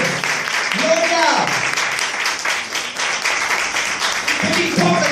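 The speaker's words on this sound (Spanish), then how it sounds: "Dale un aplauso al que dice ¡aleluya!" A church congregation applauds at a lively Spanish-language worship service, with steady clapping running the full length and voices calling out over it.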